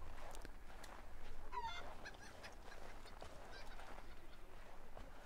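Chickens clucking in the video game Assassin's Creed 3, faint scattered fowl calls over a soft ambient game background.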